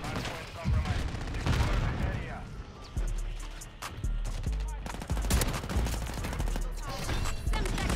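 VTOL killstreak gunfire in Call of Duty: Modern Warfare III, heard as steady, dense rapid shooting and impacts across the whole stretch, with someone talking over it.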